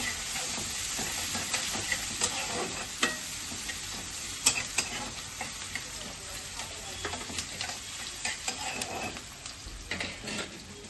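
Onions frying in a pan for a Kathla Lajar Kalia curry, a steady close sizzle with frequent scraping stirs and small clinks of a utensil against the pan throughout, no voices.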